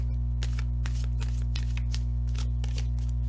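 Rapid riffling of tarot cards shuffled in quick repeated bursts, close up, over a steady low electrical hum.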